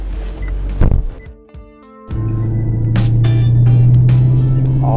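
A Maserati GranTurismo's engine and exhaust: a few clicks and a short mechanical whir, then the engine fires into a loud, deep, steady rumble that builds slightly and holds.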